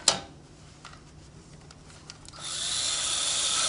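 A power drill whirs steadily in a physics demonstration of rotational mechanical power, starting quiet and thin then swelling into a louder, brighter continuous whine about two-thirds through, with no talk over it.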